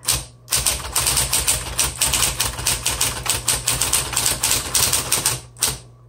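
Rapid, steady keystrokes from a 1960s Smith Corona Coronet electric typewriter, each key striking sharply over the machine's low constant motor hum, close and loud with brief pauses and no talk.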